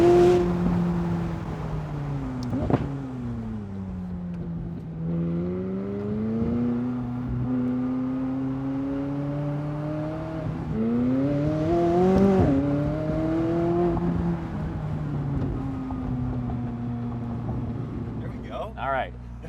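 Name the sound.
McLaren 600LT engine revving with exhaust pops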